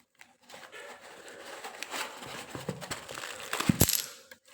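An antique lot of scarce 1962 Indian one-rupee coins being unpacked: packaging rustles and crinkles under a run of close metallic clinks, building to a sharp, loud jingle of coins near the end, with no talking.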